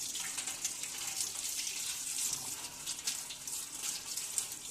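A car coolant-system thermostat is lowered into cold water, producing a steady, close rush and splash of running water with a bright hiss that holds for the whole stretch, no voices present.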